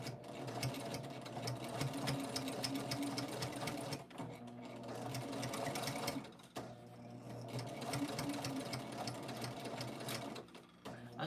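A domestic sewing machine stitches binding down through several layers of fabric in steady, continuous whirring runs, broken by two short pauses, close and fairly quiet.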